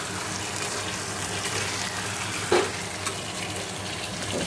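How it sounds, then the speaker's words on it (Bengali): Mutton sautés in a pan with a steady, soft sizzle and a faint watery hiss, plus one brief clatter midway, close and without speech. "তো চলো একটু কষে নিই মাংসটা"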